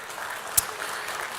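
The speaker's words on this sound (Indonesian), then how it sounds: "boleh kita berikan tepuk tangan sekali lagi." Applause from an audience for ministers at a formal gathering, a brief stretch of dense, even clapping with one sharp click near the middle, no voices.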